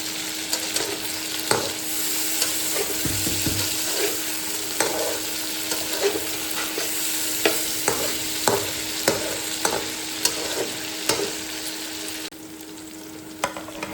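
Onions and finely chopped potatoes sizzle in a pan with a steady hiss, broken by repeated clicks and scrapes of stirring, until the sizzle drops abruptly near the end.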